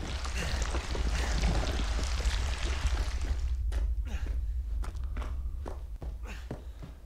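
Footsteps in the survival horror game Resident Evil 7 demo, a steady run of soft treads over a constant low rumble, dense at first and thinning into separate taps later, with no talk.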